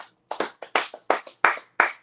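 Sharp, close hand claps in a loose rhythm, about a dozen strikes clustered in pairs and bunches with short silent gaps between them, no voices over them.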